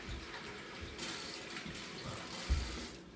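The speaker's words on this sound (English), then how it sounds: "Now that our rice is rinsed off, we're going to just set it over our measuring cup so that the water can drain." Rinsed rice set over a measuring cup to drain: a soft, steady trickle and splash of water runs throughout at close range, with a small bump near the end.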